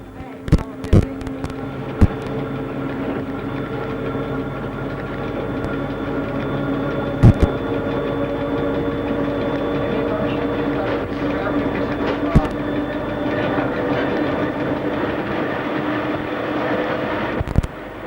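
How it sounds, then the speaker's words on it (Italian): Ferrovie dello Stato ES 646 direct train on the Udine–Trieste line, a steady onboard rumble and drone of the train gathering speed, with scattered sharp clacks and knocks from the track over the run. "Il treno riprende velocità."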